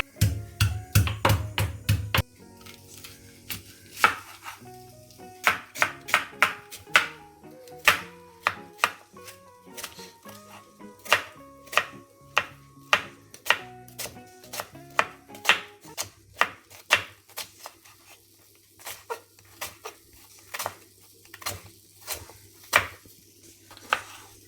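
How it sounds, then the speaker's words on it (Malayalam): Ginger and garlic pounded in a kitchen crushing tool, producing a long series of sharp, close, rhythmic thuds and knocks that speed up and slow down, with no voices. "നമുക്ക് ആയുധത്തിലോട്ട് ഇഞ്ചി ഇട്ട് കൊടുക്കാം, വെളുത്തുള്ളി ഇട്ട് കൊടുക്കാം, ഇതിനൊന്ന് നോവിച്ചെടുക്കട്ടെ"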